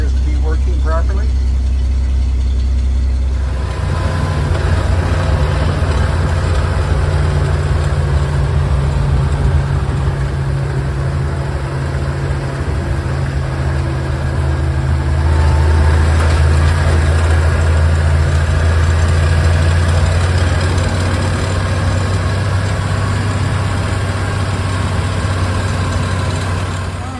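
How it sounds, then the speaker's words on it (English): A Dodge Power Wagon truck engine, just started, idles with a steady low rumble after a brief start-up at the beginning, close and loud throughout. "Temperature, I just started the engine, so it's heating up"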